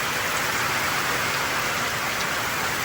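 Heavy rain pounds a curved galvanized iron roof in a steady, dense roar of drumming that runs unbroken and fairly loud throughout, with no voices.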